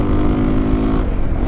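A KTM 525 EXC motorcycle engine drones loud and steady while riding, with a dense buzzing hum that eases slightly near the end.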